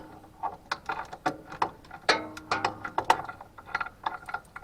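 Wrench loosening a bracket bolt on a Farmall Cub tractor, a close series of quick metallic ratcheting clicks and taps in uneven bursts.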